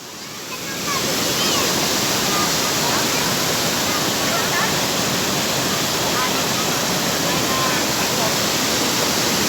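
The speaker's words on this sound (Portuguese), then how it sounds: "Cachoeira do Ouro." Cachoeira do Ouro waterfall roars as a dense, constant wash of falling water, loud and close, filling the whole clip after a brief quieter start.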